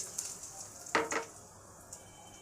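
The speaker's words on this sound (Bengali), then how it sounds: "গোটা মশলা আছে, গরম মশলা, স্টার ফুল, এটাও দিয়ে দেবো তেলে।" Whole garam masala and star anise sizzle in hot mustard oil in a kadai, a faint hiss with a brief crackling spurt as the spices hit the oil, plus a light clink of a utensil.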